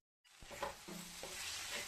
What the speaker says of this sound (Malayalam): അപ്പോൾ നമുക്കൊന്നും കൂടി ഇളക്കി കൊടുക്കാം. ഇത് ഇടക്കൊന്ന് ഇളക്കിയില്ലെങ്കിൽ അടിയിൽ പിടിക്കും. ചട്ടിയായത് കാരണമാണ്.